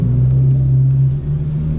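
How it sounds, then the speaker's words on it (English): A straight-piped Genesis car idles loud and close, its steady low engine drone holding nearly unchanged with only slight swells in pitch, no clear sharp rev spikes. "I don't know if I should just floor it or if I just want to rev it or what."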